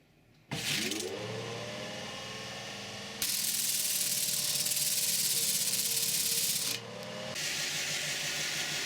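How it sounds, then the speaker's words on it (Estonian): A loud, steady abrasive whir of a power sander smoothing a glued-wood blank, rising in intensity midway, then easing back, with no talking. "esialgselt lihvin lihtsalt siledamaks"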